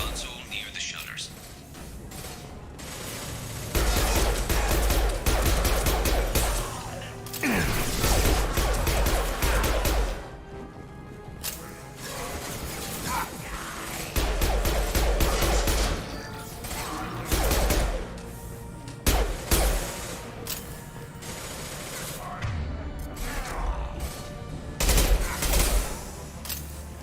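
Bursts of combat gunfire in Mass Effect 2 crackle in repeated volleys, loud clusters separated by brief lulls, with a voice speaking between and over the shots.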